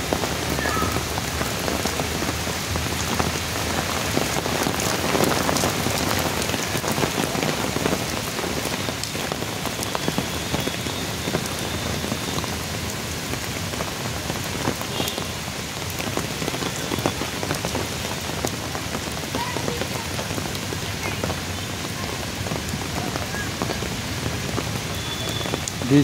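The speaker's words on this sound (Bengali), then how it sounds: "বৃষ্টি আস্তে আস্তে থামলো।" Steady rain falls in Juhu garden, Mumbai, a dense, even hiss of drops hitting surfaces close by that continues without a break and with no voices.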